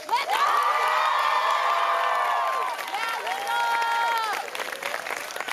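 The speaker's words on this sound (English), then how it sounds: "big cheer for Linda." A closing convocation crowd cheers and applauds loudly, high whoops and shouts layered over continuous clapping that dips briefly mid-way before swelling again.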